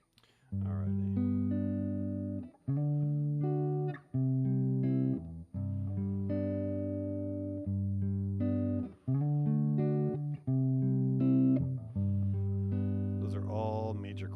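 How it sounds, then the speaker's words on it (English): Major chords sound one after another on a keyboard, about seven sustained chords struck in a steady sequence, each ringing for a second or two before the next, close and clear. "Those are all major chords."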